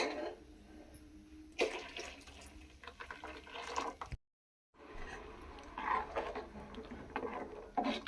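Water being poured into a pot of fish sambar in a home kitchen, a steady splashing pour with a brief gap of silence midway, then more liquid sloshing and pattering.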